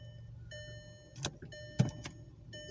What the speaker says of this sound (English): Open the windows.